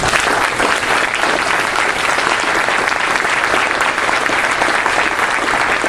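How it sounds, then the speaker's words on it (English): Steady, full applause fills the room at a Rotary Club of Lacey scholarship awards gathering, a sustained even roar of many hands clapping with no pause. "I think we should give them a round of applause"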